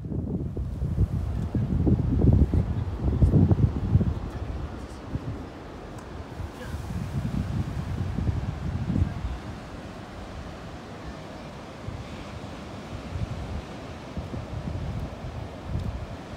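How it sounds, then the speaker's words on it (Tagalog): Powerful ocean waves break and surge on an Australian beach after a storm, a loud continuous roar of surf mixed with heavy wind buffeting the microphone, swelling and easing over time. "Pero yung alon, napakalakas."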